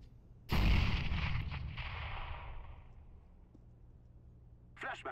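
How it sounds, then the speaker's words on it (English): A grenade blast in CS:GO on the Mirage map hits sharply and loud, followed by a long, fading rumble and the crackle of an incendiary burning, with a brief voice at the end. "Incendiary out. Grenade."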